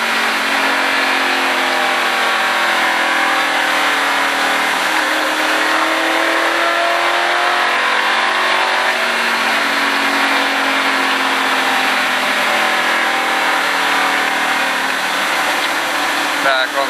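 A stock car on a racing driving-experience track roars continuously at close range, its engine note climbing and shifting as it accelerates, loud and sustained throughout with a voice talking faintly beneath.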